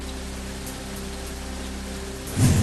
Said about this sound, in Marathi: वर्ध्यामध्ये मुसळधार पावसाची हजेरी